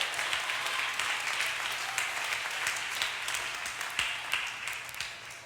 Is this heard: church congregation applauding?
yes